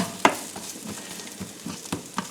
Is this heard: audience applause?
no